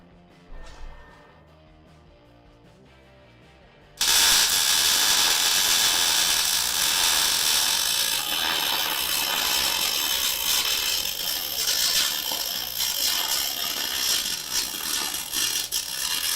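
Sped-up welding runs as a dense, loud, continuous crackling hiss that bursts in abruptly after four seconds of quieter sound and then holds steady to the end.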